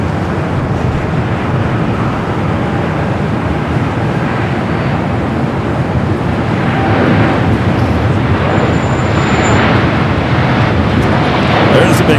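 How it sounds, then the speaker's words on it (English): Turkish Airlines Dreamliner airliner rolling on a runway at LAX, a loud continuous roaring jet rush heard from nearby, steady and building slightly toward the end. "That is the flight heading back to Istanbul on the Dreamliner, flight 180."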